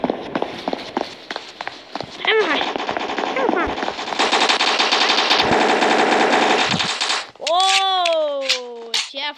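Rapid automatic gunfire and single shots from the blocky online shooter Block Strike, loud and nearly continuous, with bursts overlapping in a dense stream and a brief drop near the end before more firing.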